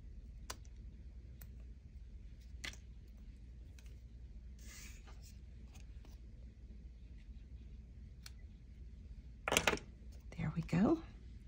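Paper scrap embellishments get trimmed with a few quiet, crisp snips clustered near the end, following scattered faint clicks and handling rustles in a hushed room.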